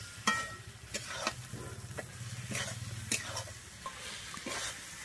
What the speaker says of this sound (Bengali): আমার চর্বিটা কিন্তু এখানে কষানো হয়ে গেছে